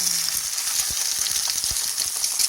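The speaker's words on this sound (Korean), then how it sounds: "영양이 많은 계란 후라이 한번 해서 먹어보겠습니다." An egg fries in a pan with a loud, steady hiss of sizzling oil, dotted with small pops and crackles throughout.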